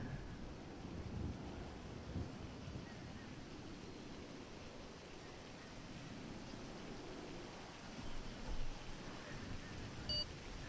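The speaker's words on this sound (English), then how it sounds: "Oh, it's starting to rain." Steady rain hiss with low rumbling thunder in a GTA 5 street race, a continuous broadband wash that holds at an even level throughout, with a couple of faint electronic beeps near the end.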